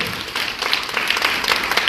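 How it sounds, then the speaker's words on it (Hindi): Students burst into loud, dense applause at a school Republic Day celebration, a continuous close crackle of many hands clapping with no talking. "तालियों से स्वागत करते हैं जोर जोर से।"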